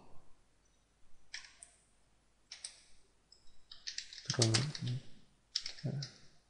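Someone types on a computer keyboard in short clustered bursts of quick clicks separated by pauses, close and fairly quiet, with brief soft speech overlapping one burst.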